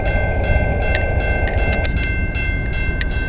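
CN freight train CNL509 from Sarnia, Ontario passes close by on the Dundas Subdivision at Colborne Street in London, Ontario, a loud rumble of rolling wagons with intermittent metallic clanks and squeals over a sustained low roar.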